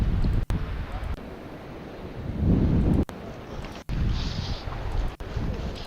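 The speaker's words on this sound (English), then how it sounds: "Wind." Gusty wind buffets an outdoor microphone at a fishing spot, a steady rushing roar broken by a few abrupt dropouts, with a watery surf-like wash behind it.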